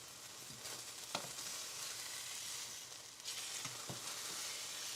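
Steak searing in a hot pan gives a steady, close hiss of frying fat, with a few sharp pops and clicks from the pan; no talking.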